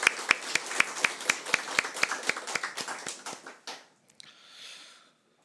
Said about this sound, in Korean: 우리 하나님께 감사의 박수, 또 언제나 수고하는 우리 찬양대에게 격려의 박수 하겠습니다